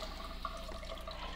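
Tap water runs steadily from a faucet onto a rolled-up towel, a soft continuous splashing rush that stays close and even for the whole stretch with no talking over it.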